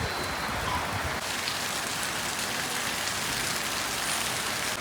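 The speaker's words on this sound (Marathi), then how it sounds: "जोरात पाऊस पडायला लागलाय" Heavy rain pouring steadily during a sudden monsoon downpour in a rural Maharashtra village, a dense, continuous hiss on surfaces close by with no voices.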